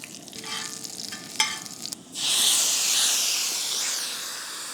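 Ginger dropped into hot oil in a pan, starting with a few stirring clinks before a sudden loud burst of frying sizzle that holds steady and close to the end, with no speech.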